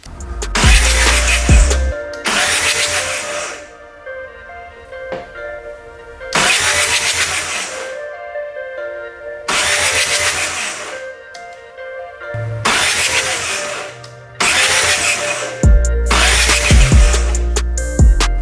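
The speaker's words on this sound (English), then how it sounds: "So let's get cranking, see if we can get some fuel up to the injectors." A TDI diesel engine is cranked over in several loud, close bursts separated by short pauses, the starter churning hard each time as fuel is drawn up to the injectors.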